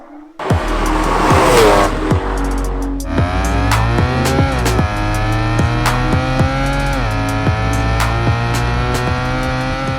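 A BMW 135i with a swapped-in M3 V8 engine revs hard and loud, climbing and dropping through sharp throttle blips with a deep, rumbling idle between them.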